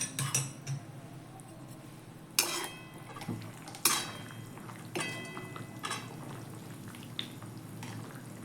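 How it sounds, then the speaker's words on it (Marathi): A metal lid comes off a cooking pan of eggplant, with several sharp clanks and rattles of cookware spaced out over a quiet kitchen background. "त्याच्यासाठी आपण झाकण काढून घेऊया."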